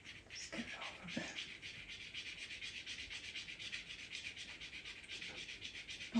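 General's charcoal drags across paper to draw hair in a portrait, giving a soft, continuous scratchy rasp with rhythmic strokes, fairly faint and close.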